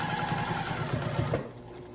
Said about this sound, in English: And sew it with a straight stitch.